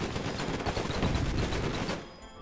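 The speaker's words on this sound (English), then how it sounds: "these miniguns are mincing through him" Minigun fire from an airship in the strategy game Airships: Conquer the Skies, a dense, continuous mechanical roar of rapid shots that runs steadily for about two seconds and then stops abruptly, with no talking.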